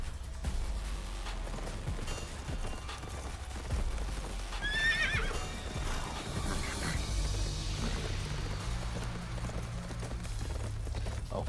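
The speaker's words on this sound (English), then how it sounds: "A horse is charging right at me." A video game horse neighs in a shrill whinny while rapid clip-clop hoofbeats of a gallop drum underneath, set in a wide, wet open meadow, with a steady background rumble and no talking.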